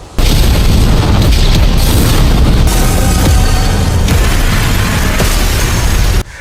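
Explosions from an animated fantasy battle in which clan elders blow themselves up one after another at the same spot: a loud, continuous roaring blast with rumbling bursts, sustained at full volume with no talk.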